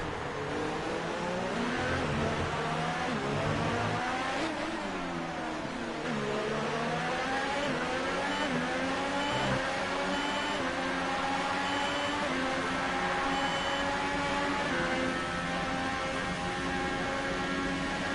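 F1 race car engines from the F1 2018 game at the Mexican Grand Prix, a continuous loud high-pitched whine with engine tones rising and falling as cars accelerate and shift.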